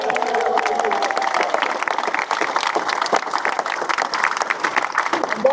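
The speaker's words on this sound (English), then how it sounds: "Please give them all a big round of applause." An outdoor crowd at Rundle Mall in Adelaide claps for the South Australian men's cricket team celebrating a Sheffield Shield win, dense, loud applause sustained evenly, with a brief voice trailing off at the start.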